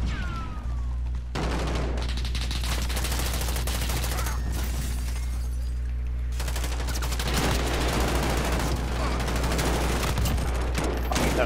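Sustained automatic gunfire and explosions in Call of Duty: Modern Warfare, dense rattling volleys that continue almost without pause over a low rumble, with brief voices in the background.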